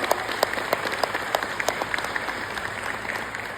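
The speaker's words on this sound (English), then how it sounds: "Let us give ourselves a resounding applause for making it this far." Graduates at a pre-service teachers' pinning ceremony applaud together, a moderately loud, steady patter of many hands with a few sharper individual claps standing out, faint murmuring underneath.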